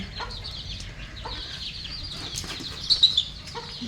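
Soft clucking from hens with their chicks nearby, a few short bursts over a quiet farmyard background.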